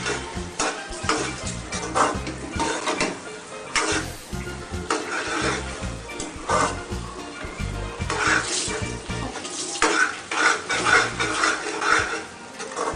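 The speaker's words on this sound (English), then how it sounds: "Continuously stir it." A spoon scrapes and stirs a thick coconut fudge mixture cooking in a pan, producing repeated rough strokes with faint sizzling underneath, close and continuous.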